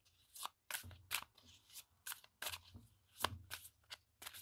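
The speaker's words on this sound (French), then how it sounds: "On va les mélanger un petit peu quand même" A deck of oracle cards is shuffled by hand, giving crisp, rhythmic riffling and flicking bursts at close range in a quiet room.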